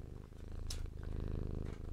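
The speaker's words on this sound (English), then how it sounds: "There's a cat purring." A cat purring close by, a low steady rumbling purr with rhythmic breathing pulses continuing throughout, plus a faint brief rustle; no talking.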